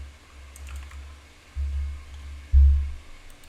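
A computer keyboard is typed on in short bursts of soft clicks with a low thump or two, close and otherwise quiet.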